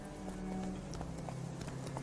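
Hooves of Roach, Geralt's horse in The Witcher 3 video game, clip-clop in a steady, quick rhythm of distinct thuds at moderate loudness, with no talk over them.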